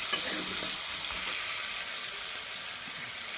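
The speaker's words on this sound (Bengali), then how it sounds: "কড়াইয়ের মধ্যে একটু আমি তেল দিয়ে দিলাম গরম মশলা গোটা জিরে পেঁয়াজ পেঁয়াজটাকে এর মধ্যে ভালো করে ভেজে নেব" Onions frying in hot oil with whole cumin and garam masala in a kadai, a steady bright sizzle that holds at an even level throughout, with no voices.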